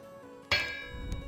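A single hammer strike clangs on a metal plate in the Vintage Story video game, a sharp ringing hit whose tone hangs and fades over a quiet background.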